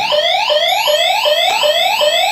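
A house entrance alarm sounds loudly and steadily, a rapid chain of rising whooping sweeps repeating about every third of a second, electronic and piercing with no voices over it.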